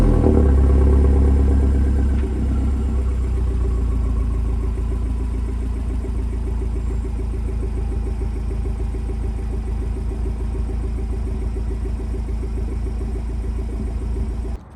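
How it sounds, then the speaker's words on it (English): Modified Mazdaspeed 3 engine idling close up, a steady, slightly lumpy rumble with a fine clattering pulse, a bit louder in the first couple of seconds and then holding an even, unbroken drone with no talking. "I'm gonna show you guys just like idling the car"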